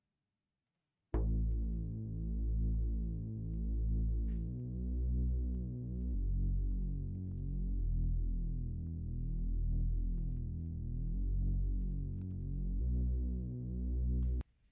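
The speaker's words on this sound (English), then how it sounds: "So the bass line sounds like this." Two-oscillator Analog Lab synth bass preset processed with RC20, playing deep sustained notes that pulse and throb in a slow repeating line, loud and alone, with changes of pitch every few seconds.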